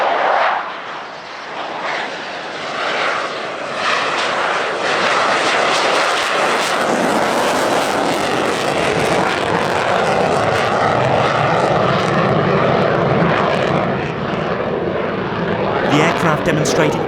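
An F-16 fighter jet flies a slow high-angle-of-attack pass at the California International Airshow 2023, its engine roaring loud and continuous for over fifteen seconds, swelling and shifting as it passes, with a commentator's voice underneath.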